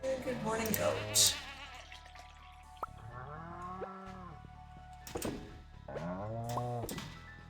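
A goat in the Stardew Valley video game bleats in several wavering, drawn-out calls, and someone talks over and between them.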